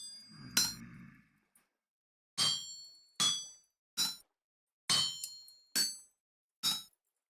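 An iron hammer head being hammered on an anvil in the game Vintage Story: about seven sharp metallic clangs, each ringing briefly, spaced irregularly under a second apart, clear and alone after a brief opening noise.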